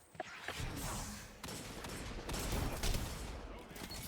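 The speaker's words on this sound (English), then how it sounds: "Man, I cannot aim this shotgun today." Shotgun blasts and other gunfire ring out in a PvP video game: a few sharp bursts over a dense, continuous stream of game noise and firing.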